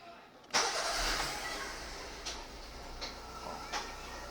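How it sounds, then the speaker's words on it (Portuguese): A car engine with an odd noise, due for an oil change and with a dashboard warning light on, cranks and catches abruptly, then settles into an idle broken by a few sharp periodic knocks or clicks, close by. "O carro tá fazendo barulho no motor."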